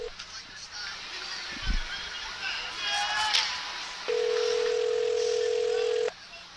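Telephone dial tone and dialing for a prank call on a busy Times Square street, a steady tone holding for about two seconds over loud crowd and traffic noise, with brief honks and voices around it.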